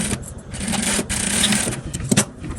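A sewing machine stitches a royal velour evening dress with a 0.5 seam, a close, loud mechanical whir coming in uneven bursts with short pauses between runs, and no talking.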